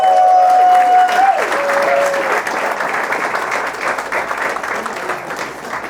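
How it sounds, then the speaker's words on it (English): An audience at a business talk breaks into loud, dense applause that holds steady for several seconds before slowly thinning, with a brief tone heard at the start. "Give yourself a round of applause."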